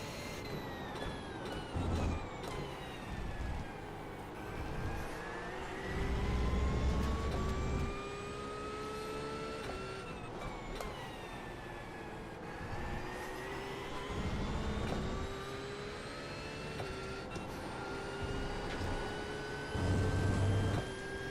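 Race car engines at Road America in a racing video game, with a faster car closing in: a continuous loud engine roar rises and falls through repeated gear shifts, pitch climbing then dropping over twenty seconds, with no talking.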